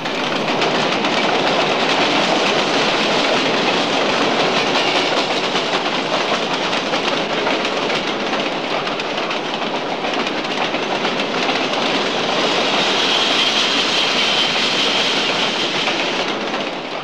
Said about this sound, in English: we'll switch to the famous Flam Railway, the steepest standard gauge railway in Europe